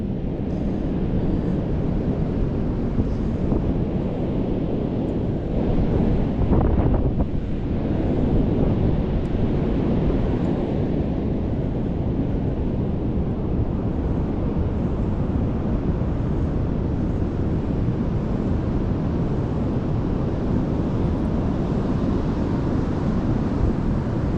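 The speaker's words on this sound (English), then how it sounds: "Oh, look at those waves." Wind and crashing ocean waves roll over a hazardous sea at sunset, a constant loud rush with heavy wind buffeting on the microphone and no pauses.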